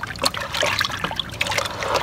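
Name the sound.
dirty water being poured out while washing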